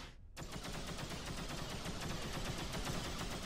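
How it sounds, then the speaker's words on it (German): In the space game X³: Reunion, an enemy ship fires its weapons in a fast, continuous burst of rapid shots. The sharp, even volley starts abruptly and carries on without a pause, with nothing heard beneath it. "wenn er mit seinen Waffen auf uns schießt"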